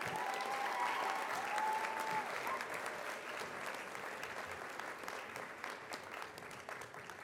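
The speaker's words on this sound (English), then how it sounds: "Give them a round of applause, please." A commencement crowd at Palm Valley School gives banner carriers a round of applause, a broad sustained wash of clapping from many hands that holds steady throughout, with brief vocal sounds early on.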